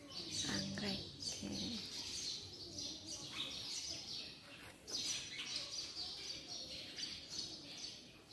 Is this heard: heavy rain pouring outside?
no